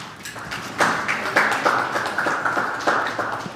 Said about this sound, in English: So we're going to do the clap again.